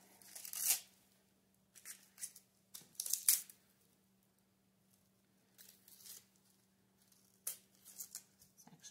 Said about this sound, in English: Go ahead and peel this.